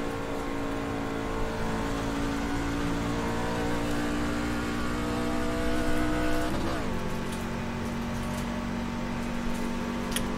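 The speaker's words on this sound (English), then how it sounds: "Sounds like we got an engine damage." A damaged race car engine in the iRacing video game at Daytona drones continuously and loudly at steady revs, its harmonics dipping briefly once before holding steady again.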